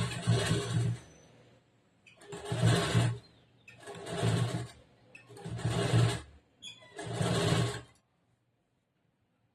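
A sewing machine stitching silver lace onto a saree blouse, running in five separate bursts of a few seconds each, with short pauses between them. The whir is close and fairly loud and stops quietly at the end.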